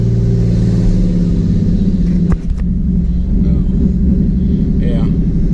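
A twin-turbo V6 car engine runs with an open downpipe exhaust, a loud, close, deep rumble that holds steady throughout, with a slight dip partway through.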